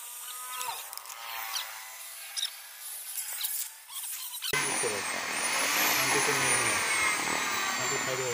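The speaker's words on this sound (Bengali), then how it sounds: "চলো আমরা ফুটো করবো" A drill boring holes into a 12-volt fuse switch board, starting halfway through as a loud continuous whine with a rising pitch sweep, after a stretch of quieter handling and talk.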